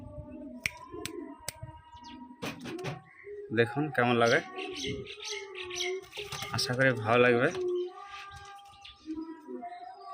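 Andhra pigeons, a ringed female and a male, coo in repeated throaty rolling bursts at close range while someone talks over and between them.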